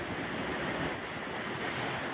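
Wind and surf at a stone breakwater, a steady broadband roar with wind buffeting the microphone, loud and continuous over a short stretch.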